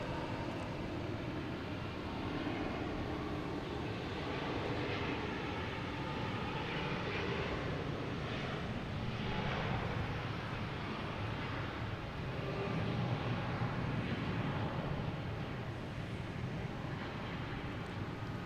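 A Lufthansa airliner taking off from Boston Logan bound for Munich sends a steady, distant broadband engine roar that holds at a low, even level with slight swells throughout.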